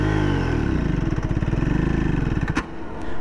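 A 2024 Triumph Speed 400 single-cylinder motorcycle lugs in sixth gear, its engine thumping in slowing, rough pulses before a clatter as it stalls out, leaving only faint rolling and wind noise.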